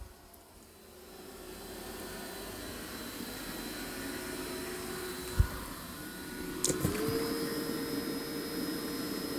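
A Dreame X60 Ultra robot vacuum runs with a steady, faint whirring hum while vacuuming and mopping at the same time. A soft thump comes midway, then a brief mechanical clatter and a slight pitch change as the motor shifts.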